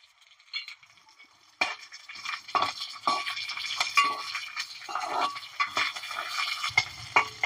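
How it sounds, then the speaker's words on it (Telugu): Garlic and green chillies fry in oil for an ivy gourd chutney, with spoon clinks against the pan, stirring scrapes and a light sizzle building through, fairly close and with no talk. "ఇది మంచిగా నూనెలో వేగాలి."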